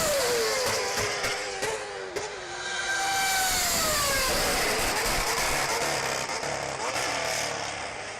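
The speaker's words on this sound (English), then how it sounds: "Blown diffusers sound awesome when the car downshifts?" Played-back recording of a Monza race car's blown diffuser on downshifts, a loud engine note with sweeping falling and rising pitch and crackling revs, continuous and close, no one talking over it.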